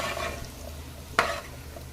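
Potato fry being stirred in a pan: a steady low sizzle of frying runs throughout, with one sharper scrape or clatter of the spoon near the middle, heard close with no talking.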